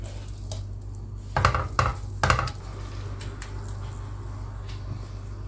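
A spoon works through sticky guanciale jam in a pan over low heat, giving a few soft scraping, squishing strokes close by against a steady background hum.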